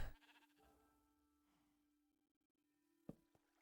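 A sheep in the video game Minecraft bleats once at the start, followed by faint game ambience and a couple of soft knocks, all fairly quiet.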